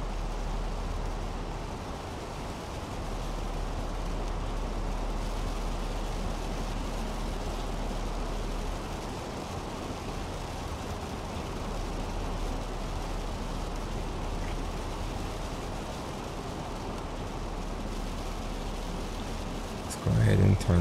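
Rain falls on an A320 airliner in a flight simulator near 13,000 feet, a dense continuous hiss of drops over low cabin engine rumble, steady throughout, with a brief thump at the end.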